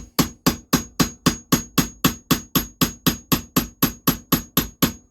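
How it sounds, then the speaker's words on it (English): A blunt chisel is hammered to seat a key on the cam of a JAP 2A engine from a WW2 generator set, giving about nineteen sharp, evenly spaced metallic taps, close and loud, with no talk. "again with the blunt chisel tap it so it works down and locks that cam in"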